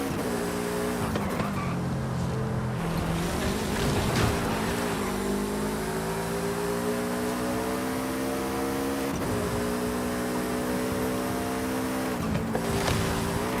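A fast, lightweight bug-style car racing in Forza Horizon 5, its engine revving hard and rising through gears with repeated shifts, plus occasional tire squeal, loud and continuous throughout.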